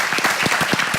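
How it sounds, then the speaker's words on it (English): Audience applause after an evening medical presentation, a dense burst of clapping from a room of people, steady and fairly loud throughout the short moment with no voices over it. "Big round of applause."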